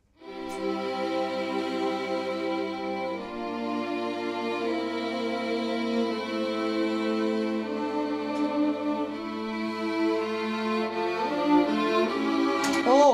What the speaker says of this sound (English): can't leave this without actually playing you the strings.